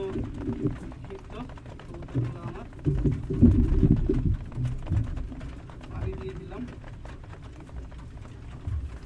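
Pigeons on a farm in Shibganj, Chapainawabganj, Bangladesh, being given food and water; soft cooing and fluttering mix with someone talking, while low rumbles and shuffling run throughout at moderate, steady loudness.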